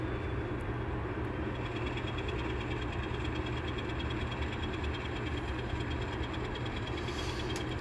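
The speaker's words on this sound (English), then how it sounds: "I think there may be two trains going by" N scale model trains rumble past on double track in a steady, continuous roar with faint rhythmic clatter of wheels on track, sustained and fairly distant.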